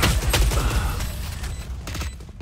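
Gunfire crackles in a Valorant match, with several fast shots clustered in the first second, then a quieter rattle and mechanical clicks trailing off, loud and close.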